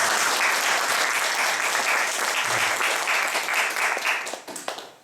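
A church congregation applauds after a pastor's ordination at a thanksgiving service, with dense, sustained clapping that carries evenly for several seconds before fading out near the end.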